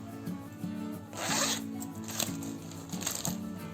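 A zipper on a gift bag is pulled open in several short, close, rasping runs separated by brief pauses, with quiet sounds of handling in between.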